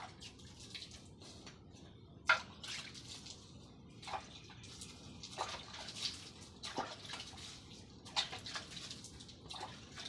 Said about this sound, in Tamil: இதை தொளிச்சு தண்ணியை தொளிச்சு விட்டால் இது மாவாக பொடிஞ்சுவிடும்